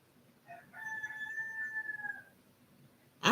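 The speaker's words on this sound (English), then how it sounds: "I think he's crowing a little more." A rooster on a chicken farm gives one clear, drawn-out crow at moderate distance against a quiet background, followed by a brief loud knock at the end.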